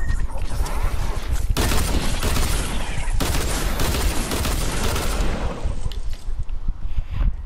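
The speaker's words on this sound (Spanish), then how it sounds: "me está matando, me está disparando, me está disparando" Gunfire in the video game Fortnite aimed at the player: loud, dense bursts of rapid shots crackle almost without pause, with brief gaps, before thinning toward the end.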